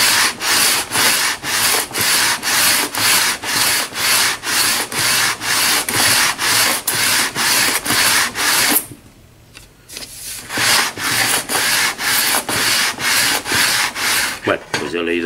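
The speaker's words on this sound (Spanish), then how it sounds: "la lija de grano 40 nos va a quitar madera rápidamente" Guitar wood for a Spanish guitar is sanded by hand with coarse 40-grit sandpaper in steady, rhythmic back-and-forth strokes, loud and close, with a brief pause before the strokes resume.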